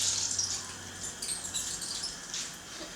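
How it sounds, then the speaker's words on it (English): Soaked seaweed for Korean seaweed soup (miyeok guk) squeezed hard by hand, water squirting and splattering out in a soft, continuous hiss with faint wet spatters, quiet and close. "You scoop out a handful, squeeze the heck out of it, have water squirt everywhere"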